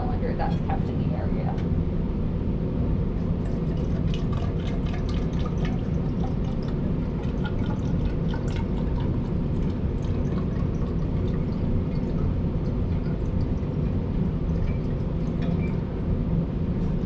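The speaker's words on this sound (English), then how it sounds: "pour out 500 milliliters of the solution in the graduated cylinder that's kept in the area" A laboratory solution, 500 milliliters of it for BOD seed preparation, pours steadily into a graduated cylinder, making a continuous, fairly loud liquid rush and splash that lasts throughout.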